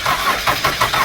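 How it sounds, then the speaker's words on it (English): A car's starter cranks in a steady repeating rhythm while the engine is being turned over to prime the fuel line after new Delphi injectors are fitted. The sound is close and loud, with no voices. "And crank the car"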